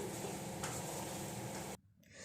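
Potato pieces seasoned with salt and turmeric fry in a pan, giving a steady, close, crackling sizzle. The sizzle cuts out abruptly near the end, then a softer sizzle returns.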